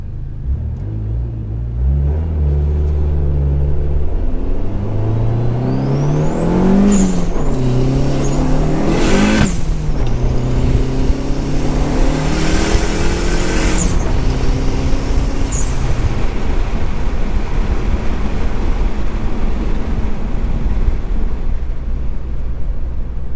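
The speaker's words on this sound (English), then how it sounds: "See how she feels going through the gears." A Dodge Neon SRT4 with an aftermarket shifter accelerates through the gears, engine revving up in several rising pulls with brief drops at each shift, loud and close throughout with no talking.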